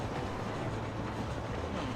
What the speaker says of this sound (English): Anyway, keep the train in sight.